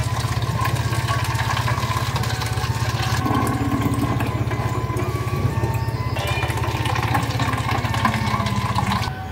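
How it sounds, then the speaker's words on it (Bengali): Four water bottles are filled from a running supply, a continuous gush of water over a steady, pulsing motor-like drone that holds throughout. "তো চলো এখন জলগুলো ভরে নিই"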